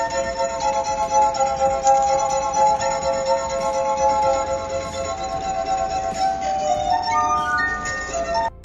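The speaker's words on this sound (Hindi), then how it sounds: "ये म्यूजिक किसी म्यूजिकल इंस्ट्रूमेंट से नहीं बल्कि शीशे के ग्लास से कंपोज की गई है" A street performer plays a melody on drinking glasses, producing sustained, pure ringing tones that overlap and shift pitch in a smooth, continuous flow, loud and close with no voices.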